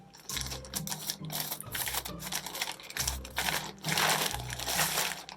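Crinkly plastic mailer bag being pulled open and rustled, a steady stream of crackling and crumpling bursts at close range, no talking.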